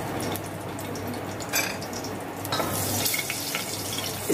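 Cumin seeds and two or three whole dried red chillies sizzle steadily in hot oil in a kadai, a dense continuous crackle and hiss with no voices over it.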